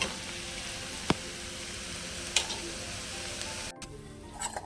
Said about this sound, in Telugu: ఒక బ్యాచ్ ఫ్రై అయ్యాయండి